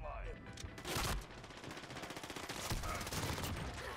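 A teammate's rapid automatic gunfire shooting down a UAV in Modern Warfare, with dense bursts of shots that are loud and close.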